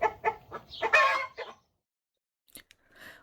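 Chickens in a coop clucking and squawking up close in a short burst, then a pause and a few softer clucks.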